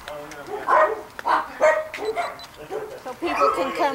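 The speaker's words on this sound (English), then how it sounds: "this area is where we show our small breed dogs" Small breed dogs bark and yip in shelter kennels, a close, busy chorus of repeated high yaps and barks throughout, with a person talking over them.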